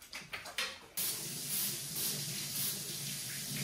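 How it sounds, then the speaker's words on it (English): Cooking spray hisses into a baking pan for a cookie pie: a few short bursts first, then one long continuous spray close up. "got our spray."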